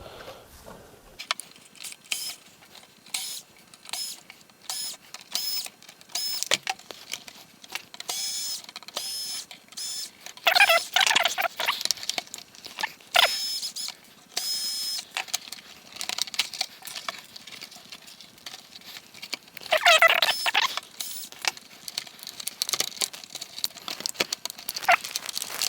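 Plastic pieces are pried and unclipped from a Traxxas TRX-4 Bronco RC truck body, giving irregular clicks, snaps and rattling handling noises, some sharper bursts, with no talking.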